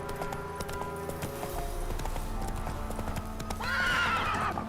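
Roach, the horse in The Witcher 3 video game, galloping with rapid rhythmic hoofbeats, followed by a loud whinny near the end, all close and clear without speech.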